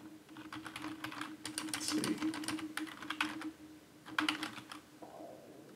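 Typing on a computer keyboard: a steady clatter of keystrokes in uneven bursts, with a brief pause midway, over a low constant hum.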